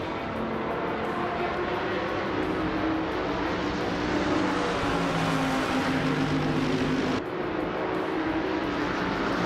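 Several race cars in a driving game roar continuously at close range, including a Mercedes-Benz SLS AMG, their engine drone loud and steady with shifting pitch and a brief dip near the end.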